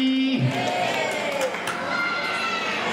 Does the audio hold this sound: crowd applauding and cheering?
yes